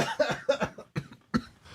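A few short, harsh coughs come in quick succession, close and fairly loud.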